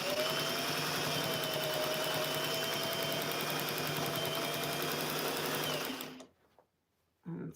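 A home sewing machine stitching a rag flannel quilt runs steadily and loudly at close range for about six seconds with a fast mechanical whir, then stops briefly before starting up again.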